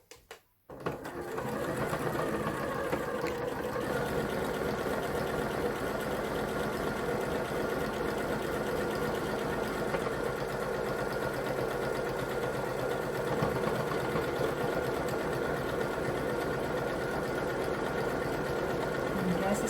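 A sewing machine sews a curved buttonhole, stitching backwards and curving at both ends. After a short click it runs as a steady, close, rapid mechanical hum for the whole stretch.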